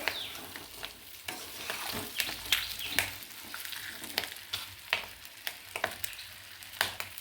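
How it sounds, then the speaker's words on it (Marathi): Stuffed capsicum curry (Shimla mirchi) fries in a pan while a spoon stirs it, soft continuous sizzling broken by frequent sharp scraping and clinking strokes at an irregular rhythm, close and fairly quiet with no talk. "आईने एकदम त्याला छान चमचा फिरवून फिरवून मस्त दमवून घेतलेली आहे भाजी एकदम छान दमत आहे"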